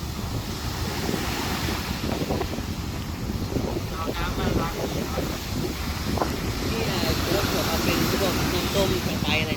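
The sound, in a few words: strong wind at Jomtien beach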